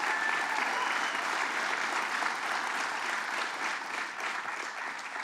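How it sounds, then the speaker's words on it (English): Sustained, even applause fills a crowd at a Hudson Valley rally for paid family leave, a thick, steady roar of clapping that holds at one level and then eases slightly toward the end. "Let's give her a round of applause."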